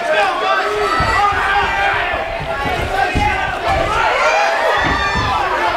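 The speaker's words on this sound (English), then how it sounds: "As you can hear, the crowd is amped." A crowd at an MMA event roars and shouts energetically, with dense overlapping yelling and whoops swelling and dipping, loud and sustained throughout, voices mixed in the din.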